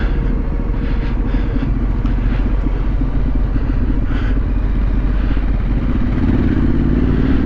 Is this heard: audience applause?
no